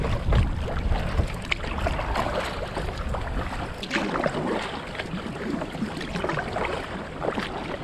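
Wind-driven water chop slaps against an inflatable kayak on a navigation canal, a steady, moderately loud splashing and lapping with irregular bursts over wind noise.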